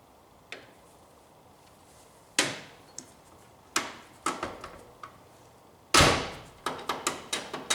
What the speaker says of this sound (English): That shows that this door hasn't closed properly.